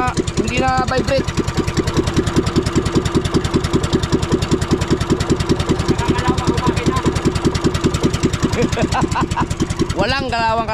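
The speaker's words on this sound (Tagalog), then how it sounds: "Walang kalog ang makina. Hindi na vibrate." A boat engine idles close by with a steady, fast, even chugging throughout, its rhythm unbroken while people talk over it.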